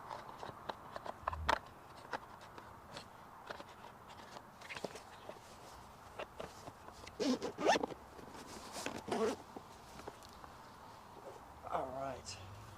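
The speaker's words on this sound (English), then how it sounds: "Some zipping" A clothing zipper is zipped several times at close range during a live planespotting stream at a windy Newcastle airport, giving short scratchy bursts amid rustling and wind, with a person talking at times.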